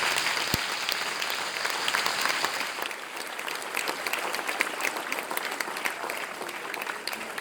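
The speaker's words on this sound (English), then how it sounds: "Could we have a big round of applause for all of them?" A large audience at a 2023 boys' competition final and awards presentation gives a sustained round of applause, steady dense clapping filling the hall with no talk over it.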